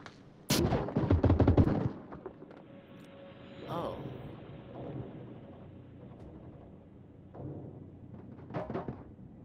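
A loud, close burst of rapid gunfire in the VR shooter Onward, followed by quieter scattered shots and voices talking over the game.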